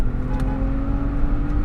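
A modified 2008 BMW 535xi Touring wagon drones steadily as it accelerates, a loud, even engine hum heard from inside the car for a short stretch.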